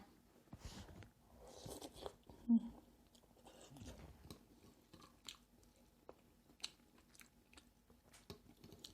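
Someone eats Vietnamese kuay jab noodles, with quiet, close chewing and scattered soft crunchy bites repeating irregularly, and one sharper click.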